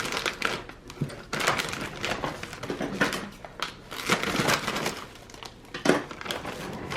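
Crispy mini tater tots are sprinkled over the top of a dinner dish, giving a run of close, dry crunchy rattles and scattered clatter in uneven bursts.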